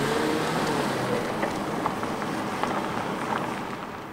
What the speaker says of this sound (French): Elle se barre avec la voiture.